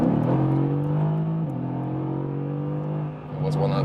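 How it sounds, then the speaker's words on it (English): A Mercedes-AMG GT V8 accelerates on the motorway, its deep droning exhaust note rising steadily with a brief dip at a gear change before pulling on, heard from inside the car. "Has this sonorous V8 sound."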